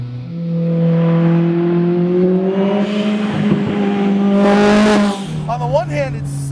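A tuned Lotus race car engine revs and accelerates loudly, its rising harmonic whine climbing steadily before cutting off near the end, with a brief tire squeal and a voice speaking over it.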